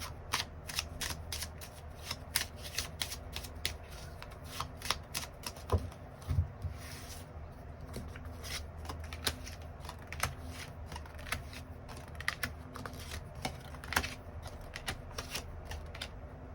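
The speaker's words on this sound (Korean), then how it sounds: "추가 카드로 일별로 월요일부터 일요일까지 어떤 하루를 보내게 될지 추가 카드 뽑아보도록 하겠습니다" Tarot cards are shuffled and drawn in a steady, close run of crisp riffling and flicking, with sharper snaps scattered throughout and no talk.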